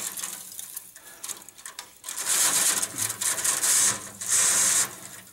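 Stiff chimney sweep brush scrubbing back and forth inside a creosote-coated flue, a rough, close scraping that builds from a quieter start into loud repeated bursts.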